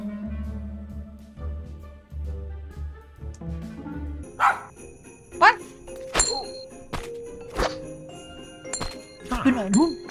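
A dog barking and yipping in the Grinch Christmas Adventures video game, with sharp thunks and jingles after a stretch of music, in scattered bursts of varying loudness.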